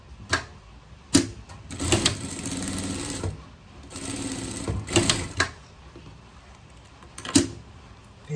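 A sewing machine stitching fabric for a pet costume runs in several close, loud bursts of rapid mechanical whirring, separated by brief pauses and small clicks.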